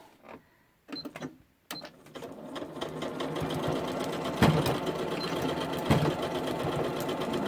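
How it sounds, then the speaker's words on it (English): A sewing machine stitches fuzzy fabric for a beginner's monster pouch, running in a steady continuous whir after a couple of short starts, close and fairly loud with no talk over it. "And I will start sewing right on this half."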